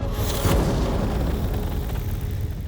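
A single loud gunshot from a handgun, a heavy booming blast about half a second in that rolls off into a long, dense rumbling tail.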